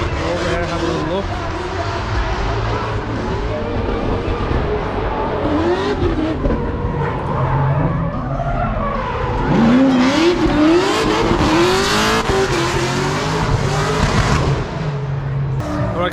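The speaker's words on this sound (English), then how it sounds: "that was Ørjan Kavia, one of our Norwegian friends, in his extremely loud S30." A very loud Nissan S30 drift car's engine revs hard and rises and falls at a drift event in Austria, with tires squealing and skidding in long stretches, close and continuous.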